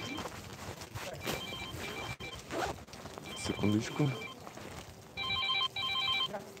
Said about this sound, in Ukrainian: хтось телефонує.